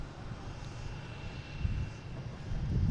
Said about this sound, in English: got a bunch of planes lined up down here trying to get out of here